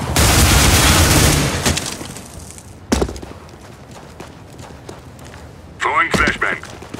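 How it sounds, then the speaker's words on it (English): A flashbang grenade detonates in a tactical shooter game, landing as a loud broadband blast at the start, then a sharp crack mid-clip and a later burst with a ringing, whistling tail. Speech runs alongside. "Deploying flashbang."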